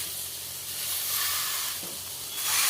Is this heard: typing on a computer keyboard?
no